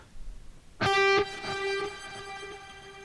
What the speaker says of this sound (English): let us hear that one with delay and reverb